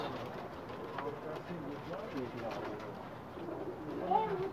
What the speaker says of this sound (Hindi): फिरोजपुरी जोड़ा है जी, उस्ताद मलिक आसिफ साहब के घर की ब्रीड है।